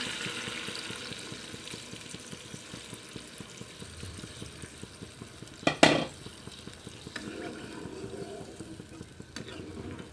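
Chicken meat frying in a pan, a continuous close sizzle with stirring scrapes and a sharp clatter of utensil on pan about halfway through.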